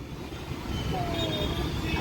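A passenger train rolls slowly into Rajahmundry station on the Secunderabad to Srikakulam route, a steady low rumble of wheels and carriages with a thin metallic squeal rising briefly toward the end, no voices.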